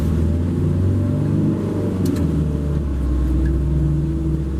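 A bus pulls away after letting passengers off in Bodden Town, Grand Cayman, its engine rumbling and revving close by, then easing off as it moves.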